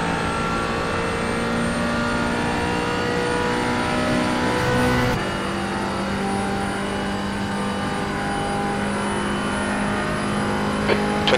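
GT4 race car engine at full throttle on the Texas road course, a loud sustained in-car drone that climbs steadily in pitch, interrupted by a quick shift and continuing strong.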